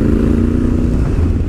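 A Honda Africa Twin motorcycle being ridden, its engine thrumming in a loud, steady low rumble at close range for a brief stretch, with no voices.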